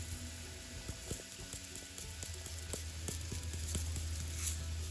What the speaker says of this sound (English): I'm going to fry it until it's soft and nice